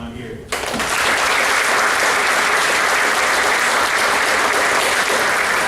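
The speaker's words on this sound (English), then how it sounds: "I think we all owe him a round of applause" Loud, dense applause from a banquet audience at an all-sports awards dinner starts abruptly and carries on steadily, close and full, without a break.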